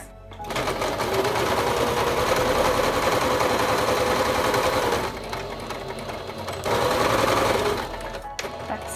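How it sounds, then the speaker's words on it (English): Sewing machine stitching fabric face mask pieces, a steady close-up mechanical whir that runs nearly nine seconds, briefly easing in the middle before resuming at full speed and stopping near the end. "you just run the machine along, come to your end, and your back stitch"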